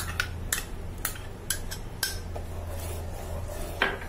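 Mango and sugar paste being stirred into boiling custard for a mango fruit custard, a utensil clinking and scraping against the pot in sharp, regular taps about every half second over a low, steady background hum.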